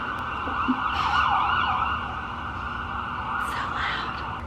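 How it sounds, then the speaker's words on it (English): A wailing siren rises and falls at a distance outside, sweeping up and down over steady background traffic rumble. "There's lots of sirens outside."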